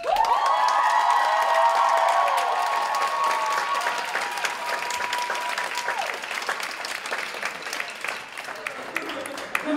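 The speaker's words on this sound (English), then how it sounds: "Can we get one more round of applause for our lovely seniors" A school spring show audience bursts into loud sustained applause, dense clapping that swells at first and tapers slowly, with a voice calling out briefly early on.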